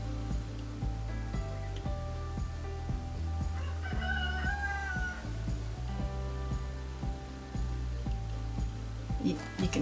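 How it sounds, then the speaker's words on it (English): A free-ranging rooster crows in a drawn-out call outdoors near a home, moderately distant, amid cat meows and a steady low hum from the surroundings. "you can hear the rooster"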